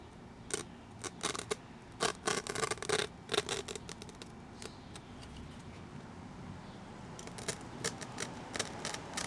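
Scissors cut through the filter material of a car intake for a 2014-on Lexus IS, making a run of close, crisp snips and scratchy rustles, busy at first and then sparser against faint background noise.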